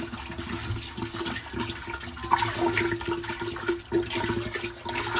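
Warm water runs steadily into a pot being prepared for Algerian chakhchoukha, a continuous splashing, gurgling pour heard up close with no talk.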